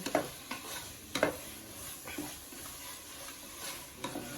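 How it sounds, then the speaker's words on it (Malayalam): Tomatoes sauté in a hot pan while a spoon stirs them, giving a steady low sizzle broken by several distinct scraping stir strokes at irregular intervals, close and moderately quiet with no talking. "ഇത് നല്ലോണം ഒന്ന് വഴറ്റിയെടുക്കട്ടെ കേട്ടോ"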